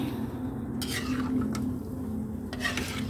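A coconut mixture is stirred in a pot, giving a steady scraping and stirring texture with a few sharper clinks of utensil against the pot.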